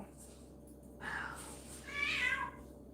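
A cat meows twice close by, a short call followed by a longer, higher one, over a quiet background.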